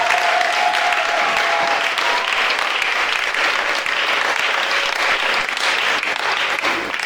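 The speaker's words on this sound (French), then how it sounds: "On acclame pour le Seigneur." Church congregation applauding during a French-language service, sustained loud clapping from a large crowd filling the space for several seconds.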